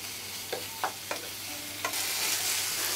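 Chicken keema with garlic stirred in a pan, a few distinct scraping strokes over a quiet background sizzle that swells into a steadier hiss toward the end.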